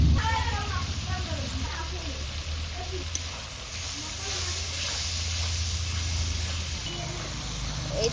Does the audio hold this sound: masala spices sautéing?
yes